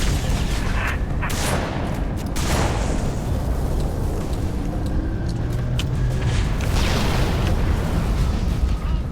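Loud, continuous battle noise from the video game Halo: Reach, with rapid gunfire and heavy booming explosions layered over one another, dense and unrelenting.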